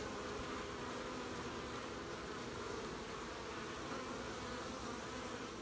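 Honeybees hum steadily around a hive entrance, a dense, continuous drone of many wings at close range with no pauses and no voices.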